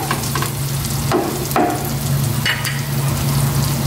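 Garlic, onion, pork and eggplant fry steadily in a pan, a continuous crackling sizzle with a few sharper stirring scrapes and clicks, close and loud, with no voices.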